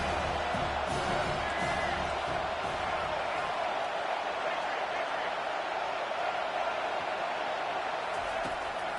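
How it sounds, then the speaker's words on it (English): Stadium crowd in a college football video game, Penn State versus Florida, a steady loud roar of cheering that holds for the whole stretch, with commentary voices talking over it. "Big third down as the crowd gets behind this defense."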